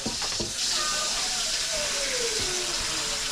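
Hot water gushes into a cooking pot of metemgee with pacu fish, a bright, steady hissing pour heard up close while a voice talks over it.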